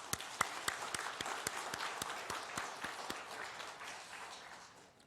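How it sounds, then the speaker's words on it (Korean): A church congregation applauds the choir during a Sunday morning service, crowd clapping with a few sharp, evenly spaced accented claps near the front, fairly faint and fading out toward the end. "우리 큰 박수로 위로해 줬으면 좋겠습니다"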